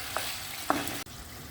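Tomatoes cook in a pan for a Turkish eggplant kebab, giving a steady close sizzle and frying hiss with a couple of brief stirring scrapes.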